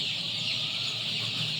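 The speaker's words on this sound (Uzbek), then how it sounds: "ukamizni Adler jo'jalarini" A dense, continuous chorus of high-pitched cheeping from a crowd of Adler chicks fills the short stretch, steady and close with no talking.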